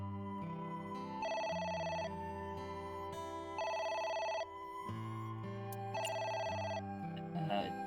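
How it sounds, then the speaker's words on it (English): Telephone ringing in the video game AI: The Somnium Files, a repeating electronic ring in three bursts over background game music, steady and moderately loud, no voices. "What about the phone? It's the phone."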